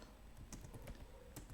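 Quiet keystrokes on a computer keyboard while Python code is entered, a few scattered clicks and short bursts over a low steady background, with no voices.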